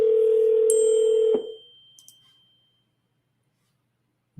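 A telephone call tone sounds as one steady electronic beep for just over a second, then cuts off abruptly, leaving a faint decaying tail and near silence before a tiny click at the end.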